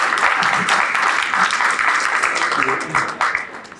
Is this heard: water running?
no